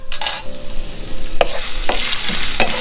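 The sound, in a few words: chopped ginger frying in hot oil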